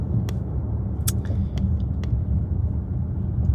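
A car drives along a road on the way to Houston, heard from inside as a steady low rumble of engine and tyres, with a few faint clicks and taps over it and no talking.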